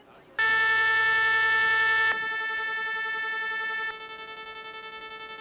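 A distorted computer-generated sine tone plays steadily and loud, a harsh buzzing drone rich in overtones. It starts abruptly after a short quiet moment, then drops slightly in level and carries on unbroken.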